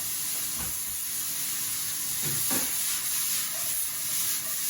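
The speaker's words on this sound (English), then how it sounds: "Leave that to fry itself around about 2 minutes till the onions probably loosen" Onions and cabbage fry on high heat in a pan, a soft continuous sizzle broken by a few short stirring scrapes.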